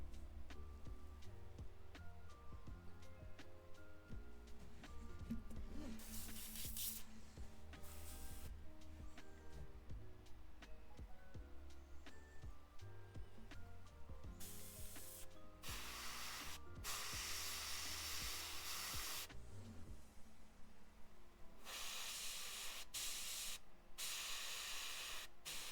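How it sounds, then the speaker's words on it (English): Aerosol varnish sprayed from a can onto a painted Kingdom Death miniature, heard as several loud, sustained hissing bursts of varying length separated by pauses, over a steady background of music. "Easier to use a can of varnish."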